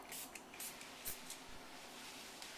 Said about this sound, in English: all we're going to do is spritz it on and just rub it in with a towel